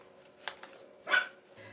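A dog indoors barks at someone at the door: a few short, muffled yips followed by one sharper bark, moderately close, with no talking.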